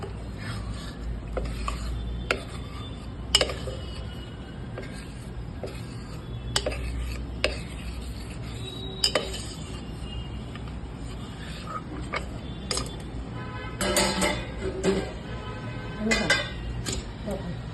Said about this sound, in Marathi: हा चीक आपण हादवून घेतोय कारण ते खाली घट्ट बसतो